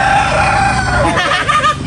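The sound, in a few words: chicken, hen clucking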